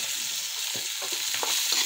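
Turmeric, peas and tomato stirred in a hot frying pan for poha, a steady close sizzle with soft scraping strokes of the spoon running throughout.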